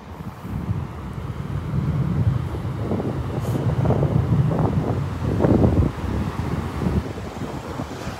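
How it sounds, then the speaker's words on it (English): Steady wind blowing across the beach at Delnor-Wiggins on a clear, breezy morning, a continuous low rushing roar with gusty swells and possible distant surf, heard alone with no talking. "Breezy, breezy."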